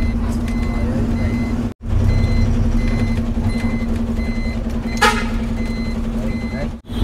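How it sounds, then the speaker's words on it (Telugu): A recovery vehicle beeps steadily in reverse at a roadside accident where a car lies wrecked, its repeated tones riding over a loud, constant engine drone and traffic rumble. "రికవరీ వెహికల్ కూడా వచ్చింది."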